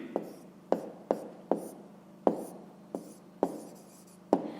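Hand writing on paper during a fifth-grade math exercise: nine or so crisp, short pen strokes spaced irregularly, close and clear, with a low steady hum underneath.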